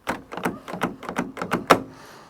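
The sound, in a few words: dented Volkswagen T4 van door being tried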